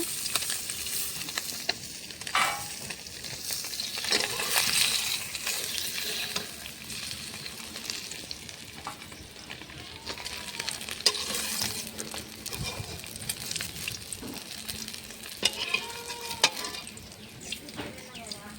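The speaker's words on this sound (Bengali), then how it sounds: "এই সাইডে মাছটা ভাজা হচ্ছে।" Bata fish sizzles and crackles in hot oil in a pan, a steady frying hiss with occasional scraping and clinks of a utensil.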